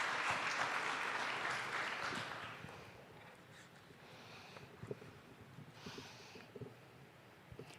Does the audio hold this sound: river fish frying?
no